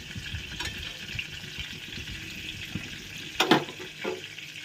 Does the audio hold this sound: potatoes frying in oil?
yes